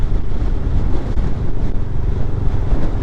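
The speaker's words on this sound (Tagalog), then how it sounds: "Taas ng hangin." Strong wind buffets the microphone in a constant low roar, with rushing gusts and no voices.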